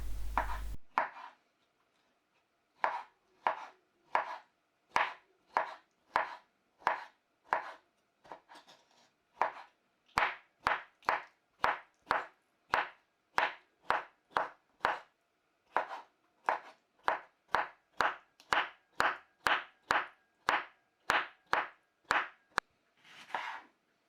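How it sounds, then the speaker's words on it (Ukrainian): Knife chopping homemade pickled cucumbers into small pieces on a board, a long run of crisp, evenly spaced cuts speeding into a quick steady rhythm, close and clear, no talk. "Далі беру домашні квашені огірки, подрібнюю їх на маленькі дрібні шматочки."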